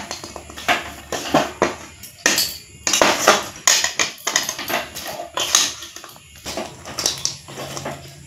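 Puffed rice being tossed and stirred with caramel in a pan: crunchy, clattering scrapes and knocks come in irregular bursts, near and fairly loud, with no voices.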